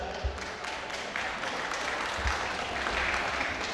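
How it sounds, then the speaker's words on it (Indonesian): An audience claps steadily for a deputy chairman at an anniversary celebration, a dense, fairly faint wash of applause that continues throughout, with no clear voices over it. "Mari kita berikan aplaus kepada Om Waketum kita."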